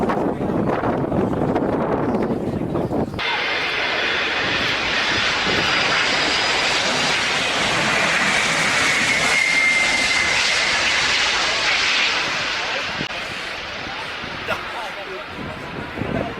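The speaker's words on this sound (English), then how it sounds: "Let's see how this pilot handles the landing of the Antonov 225." Engines of an Antonov An-225 cargo jet during a crosswind landing: a loud, continuous roaring whine with rushing wind noise that holds steady and eases slightly near the end, after a brief different-sounding opening.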